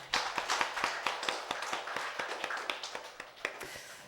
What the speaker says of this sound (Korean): 우리 하나님께 영광의 박수 한번 올릴게요.